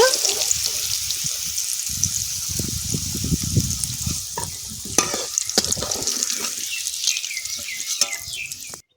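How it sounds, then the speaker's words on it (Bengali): Potatoes sizzle in hot oil with salt and turmeric while a utensil stirs and scrapes them. Crackling frying and stirring clatter run steadily and close throughout, with no voices. "লবণ হলুদ দিয়ে ভেজে নেব।"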